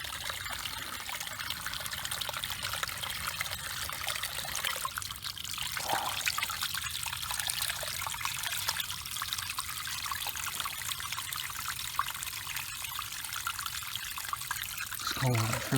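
Cold fresh spring water trickles steadily from the land into the water beside a kayak, a continuous close splashing and dribbling without pause.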